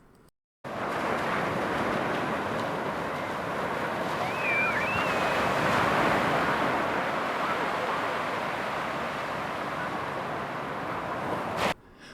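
Ocean waves wash steadily onto a sandy beach at Myrtle Beach State Park, a continuous broad roar with wind buffeting the microphone, close and loud throughout with no talk.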